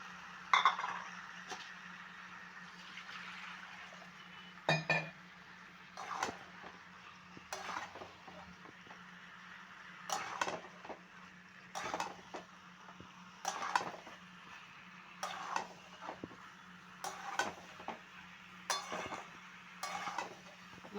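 Fried potatoes are stirred into a chicken and young jackfruit curry in a pan. A metal spoon scrapes and clinks against the pan in a steady, repeated rhythm over a faint sizzle.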